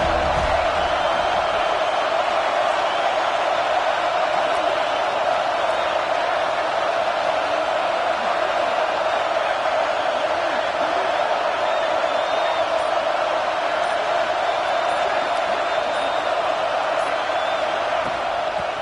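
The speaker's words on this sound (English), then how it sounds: "This crowd ready to make its presence known." Stadium crowd in a college football video game, a dense, constant roar of cheering that holds steady and loud without letting up, like a distant wall of sound.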